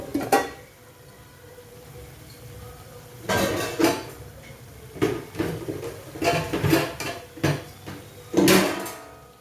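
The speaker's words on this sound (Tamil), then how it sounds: "ஒரு மூடி போட்டு நம்ம மூடி வச்சிடலாம்" Metal lid set on a pot of chicken bone kuzhambu cooking with ginger-garlic paste, a series of close clanks and scrapes of cookware in separate bursts, with no talking.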